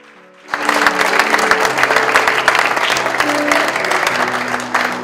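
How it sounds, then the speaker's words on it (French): A church congregation breaks into applause after a quiet start, loud full clapping from the assembly that holds steady to the end, with a faint sustained organ or keyboard tone beneath. "je comprends par acclamation que vous êtes d'accord"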